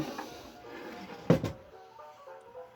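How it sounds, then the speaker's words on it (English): The lid of a Pathé Actuelle phonograph shuts with a single close wooden thump and a brief rattle, heard over the faint sound of a record still playing. "If you don't want it that loud, of course, we shut the lid"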